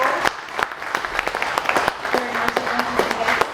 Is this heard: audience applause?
yes